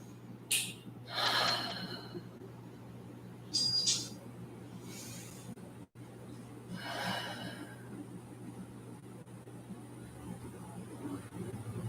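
During a live yoga class, a few deep breaths are drawn in and let out slowly, each inhale and exhale soft and airy over quiet room hum.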